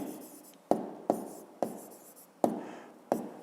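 Chalk or marker tapping and scratching on a board during a physics lesson, six sharp strokes at a steady rhythm, each followed by a short scrape, no voices.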